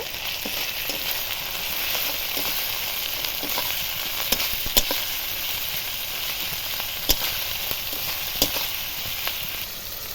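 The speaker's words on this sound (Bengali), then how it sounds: "জিরে গুঁড়ো দিয়ে ভালোভাবে কষিয়ে নেব" Chicken fries in a pan with ground cumin and coriander paste, giving a steady, close sizzle with a few sharp crackles and pops scattered through it. No one speaks.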